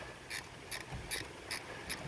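A ratchet snugs spark plugs on a 2008 Chevy Colorado, giving five evenly spaced, crisp metallic clicks over about two seconds at close range with no talking.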